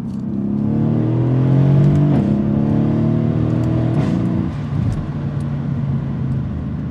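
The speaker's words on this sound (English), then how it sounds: "I hope the microphone picks up the exhaust," A Mercedes W218 CLS63 AMG with all-wheel drive accelerating hard, its loud exhaust rising in pitch through the revs with turbo whir, then a firm upshift and a steady lower drone as it pulls on.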